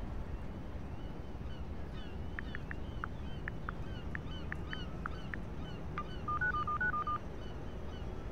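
Short electronic beeps and tones from a phone unlocking a laptop in the video game Need for Speed Heat, a run of separate bleeps followed by a quick warbling sequence, clear over a steady background hum.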